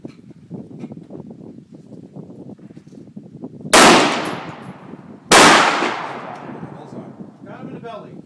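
Two sharp, loud rifle shots a couple of seconds apart at a hunter rifle match, each cracking close by and ringing off with a long decaying tail over quiet background murmur.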